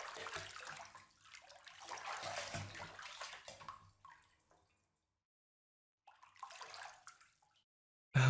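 Water pours into a bathtub, a close, hissing rush that runs for about four seconds, stops, then flows again briefly before a sudden thump at the end, with no speech.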